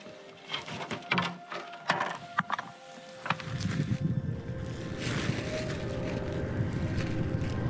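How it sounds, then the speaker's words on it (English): A floatplane drones in from a distance on a calm day, its low engine rumble swelling steadily toward the end after a stretch of scattered knocks and clatter nearby. "I hear the plane."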